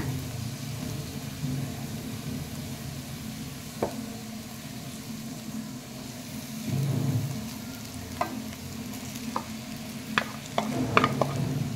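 Vegetable fried rice is stir-fried in a pan: a steady, soft sizzle continues throughout with occasional scraping and tapping of a utensil against the pan, growing busier toward the end.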